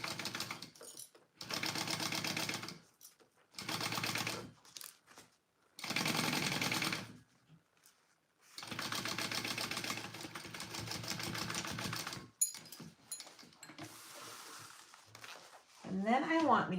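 A sewing machine bastes a zipper onto the back piece of a Rick Rolltop Petite backpack, running in several loud, steady bursts of rapid stitching separated by pauses, with a voice talking between runs.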